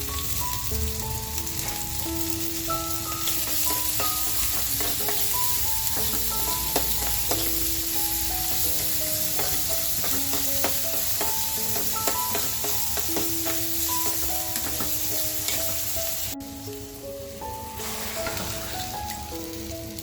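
Chopped onion crackles in a hot pan with a bright, sustained sizzle, mixed with frequent stirring clinks and scrapes, easing slightly toward the end; nobody speaks.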